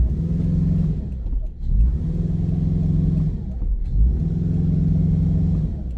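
A Subaru car engine revs hard while stuck trying to back up, with windshield wipers running. There are three loud, close surges, each rising and falling in a steady rhythm over a constant rumbling idle.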